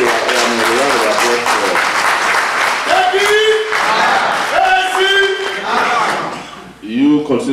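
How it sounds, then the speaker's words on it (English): Audience applause at a Dallas campaign event for a Nigerian presidential candidate, a loud sustained wash of clapping with cheering voices and shouts rising through it, dipping briefly near the end before swelling again. "give yourself a round of applause"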